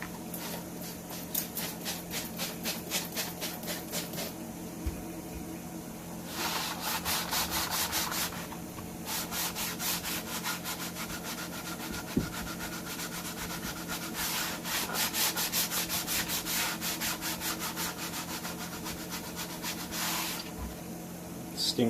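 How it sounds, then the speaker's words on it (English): A cloth with thinners rubbed back and forth over a motorcycle mudguard surface, continuous rapid wiping and scrubbing strokes in bursts with brief pauses, close and steady. "I will be then wiping with a little bit of thinners just to get any residue off"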